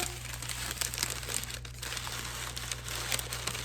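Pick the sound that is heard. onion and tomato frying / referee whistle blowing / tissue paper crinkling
tissue paper crinkling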